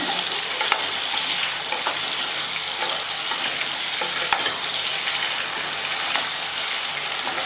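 Cubed potatoes fry in oil with a dense, even sizzle that stays loud and close throughout, dotted with small crackles and faint stirring clicks, and no voices.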